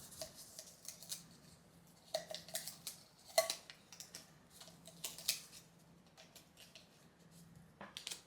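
A package of Uji matcha from Tokyo is opened with scattered crinkles, rips and sharp snips, nearby and moderately loud, in irregular bursts over a quiet background.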